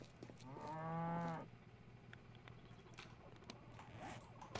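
A cow in the survival video game 7 Days to Die gives a single short, low moo near the start. Faint scrapes and clicks from play follow.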